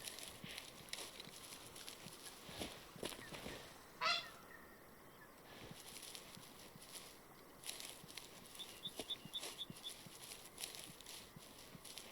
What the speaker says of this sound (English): Okay, grey leg geese.